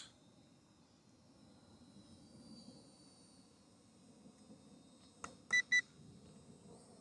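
A WeFone WF11 camera drone hovers with a quiet, steady whirring hum, and a few short sharp beeps come near the end.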